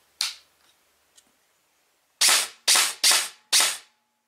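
An airsoft replica fitted with a Grizzly PSJ processor unit, stock spring and spring guide, is set to full-auto. One sharp, close snap comes first, then four more shots follow in quick succession.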